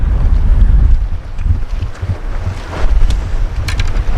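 Strong wind buffets the microphone on a cold, windy day by the sea at a fishing harbour, a steady roaring rush with gusts swelling and easing, no talk.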